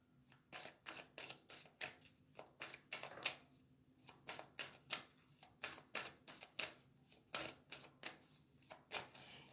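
Oracle cards being shuffled, a steady run of crisp riffling bursts repeating about twice a second, fairly quiet and close with no talking.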